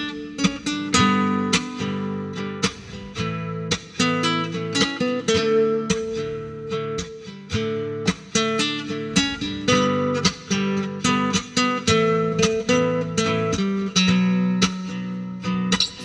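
A melody played on guitar, a lively run of plucked notes over ringing chords, close and steady in rhythm throughout with no voice.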